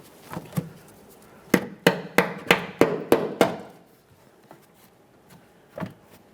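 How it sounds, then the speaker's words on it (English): Hammer tapping an ABS wheel speed sensor into place on a 2011-2020 Toyota Sienna, seven sharp evenly spaced metallic knocks in quick succession, close and loud, followed by a few softer handling clunks. "Let's tap it in."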